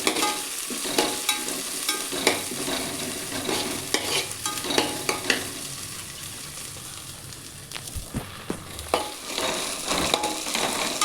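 Curry leaves sizzle and crackle in hot oil while a spoon stirs them in the pan, giving close, lively popping with scraping stir strokes and no talk.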